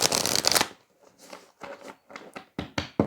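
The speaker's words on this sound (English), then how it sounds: "let's shuffle first" Tarot cards are shuffled by hand in one loud riffling burst, followed by several quicker, softer bursts of cards slapping and sliding together.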